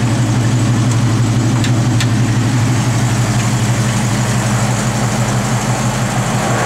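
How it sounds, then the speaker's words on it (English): Supercharged 1967 Ford Mustang convertible engine idling close by, a steady low rumble with even, continuous vibration and no revving. "Car runs too, of course. That supercharger helps."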